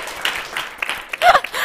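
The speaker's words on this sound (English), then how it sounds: "Big applause." A student-show audience gives a short burst of applause, scattered clapping swelling to a louder cluster near the end amid some crowd voices.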